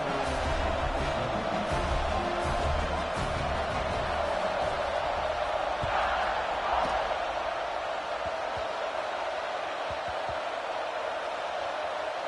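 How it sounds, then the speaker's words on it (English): Simulated stadium crowd from the College Football 26 video game buzzing after a score: a steady, dense roar of many voices that holds at an even level throughout, with no clear speech on top. "this crowd is buzzing after that last score"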